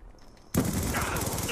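Gunfire in the video game Black Ops 2 during close-quarters play, a loud rapid burst of automatic shots erupting suddenly after a quiet moment and continuing steadily.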